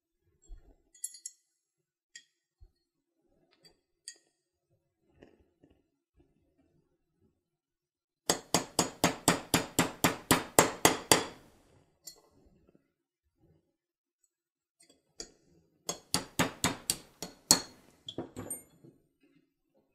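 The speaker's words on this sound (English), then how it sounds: "So we're just going to push out the pin here from behind." A punch drives the extractor pin out of a Zastava M70 rifle bolt in two bursts of rapid metallic clicking and ticking, close and sharp, separated by quiet stretches with a few isolated small taps.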